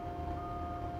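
A 2019 Doosan DX210W-5 wheeled excavator on 08 tyres reverses, its faint engine hum under a steady high reversing beep tone.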